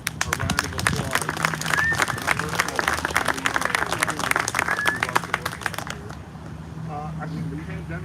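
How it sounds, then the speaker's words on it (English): Audience applause at the 18th Annual Doug Wright Awards, a dense run of clapping from a crowd for about six seconds that breaks off into quieter room sound, with a low hum beneath and a voice faintly present. "So give yourself a round of applause."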